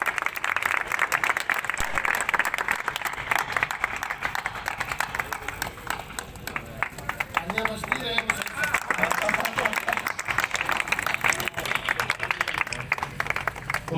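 An audience at a mushaira poetry gathering claps in a dense, sustained ripple of applause that carries on for many seconds, with crowd murmur and a voice talking beneath it.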